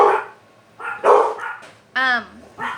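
Several pet dogs bark indoors in short, sharp bursts with yips and a whining cry, close and loud, separated by brief pauses.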